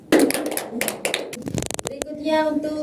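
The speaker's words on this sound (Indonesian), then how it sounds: "Tepuk tangan untuk anak Atun." Schoolchildren in a classroom clap their hands for a classmate in a quick patterned burst of sharp, close claps that stops abruptly, after which an adult voice begins speaking.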